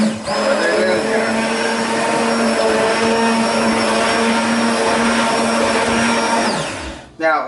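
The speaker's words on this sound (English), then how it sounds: "move the immersion blender around and cut it up to where you want it" An immersion blender whirs steadily through marinara tomato sauce in a pot in the sink, a loud continuous motor hum holding a constant pitch for several seconds before winding down and stopping near the end.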